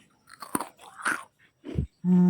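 Crunchy fried banana pastry, Indonesian molen, is bitten and chewed up close in several crisp crunches, then a steady tonal hum starts at the end.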